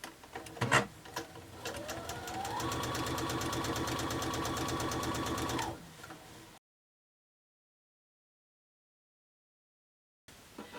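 A sewing machine stitching quilt block fabric with a wider-than-quarter-inch seam, running fast and steady for a few seconds with a rising whir, then stopping into silence.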